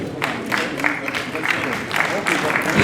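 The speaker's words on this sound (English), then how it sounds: "Please, another round of applause for Mr. Mayo." Audience applause for Mr. Mayo at a transport programme event, a steady wash of many hands clapping that swells and holds at moderate loudness, with voices murmuring underneath.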